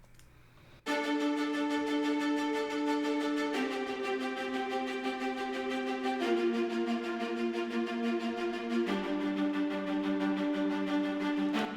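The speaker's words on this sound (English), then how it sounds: "we've got the violas. Now they're playing the chords again, but they're playing at a much faster interval than the low end was." Orchestral violas play rapid repeated chords in an epic trailer arrangement, a steady bowed pulse that shifts chord roughly every few seconds, heard alone and fairly loud after a quiet start.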